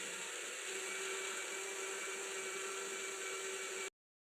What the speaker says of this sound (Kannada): ಮಿಕ್ಸಿಗೆ ಕಡಲೆ ಮತ್ತು ಒಂದು ಬೌಲ್ ಸಕ್ಕರೆ ಒಂದು ಏಲಕ್ಕಿ ಹಾಕ್ಕೊಂಡು ಮಿಕ್ಸಿಗೆ ಹಚ್ಕೊಳ್ಳೋಣ